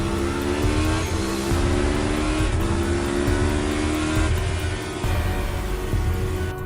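A motorbike revs hard and rides off, its engine a loud, continuous roar with rising pitch, close by and alone, with no voices.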